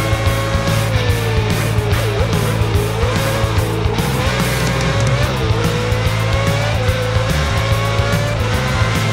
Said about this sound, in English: The wheels already squeal.